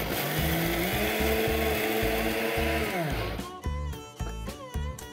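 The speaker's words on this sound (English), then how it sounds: "And similarly, let's grind the remaining mixture." A mixer grinds a dry spice blend for idli podi, chilli powder mix, with a loud, steady whirring motor that runs for about three seconds, then breaks into short pulsed bursts as the jar is rattled.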